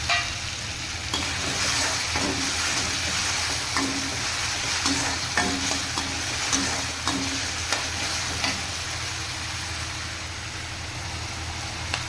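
Ginger garlic paste and ground tomato sizzle in a pan for chicken semiya, a steady close frying hiss broken by repeated soft stirring scrapes, with a low hum underneath and no talking.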